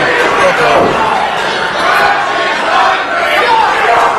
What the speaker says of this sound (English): we have a Frenchie's hungry chant from the crowd